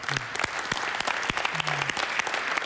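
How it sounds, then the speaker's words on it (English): An audience at a motivational speaking event claps, brief and fairly thin applause with distinct individual hand claps audible, close and moderately loud for a couple of seconds. "A big round of applause for Gina, first off."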